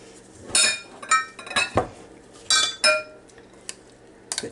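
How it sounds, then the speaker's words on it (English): A utensil stirs beets in a glass bowl, making sharp clinks and scrapes in uneven bursts with short pauses between, close and clear, with no talking. "Just mix this together a little bit."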